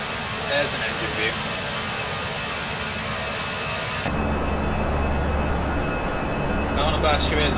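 Airbus A321 jet engines roar in a flight simulator, a loud steady broadband whine and rumble from an engine-side view that shifts abruptly to a deeper, muffled drone partway through, with no talk over it.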